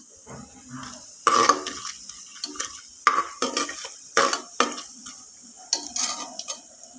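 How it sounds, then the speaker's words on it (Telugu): Tempering spices, chana dal, urad dal, cumin and mustard seeds fry in ghee, heard as a close, scraping stir with clinks of a spoon against the pan over a low sizzle. "నెయ్యి మరిగిన తర్వాత పోపు దినుసులు, శనగపప్పు, మినపప్పు, జీలకర్ర, ఆవాలు వేసుకోవాలి. ఒకసారి కలుపుకోవాలన్నమాట."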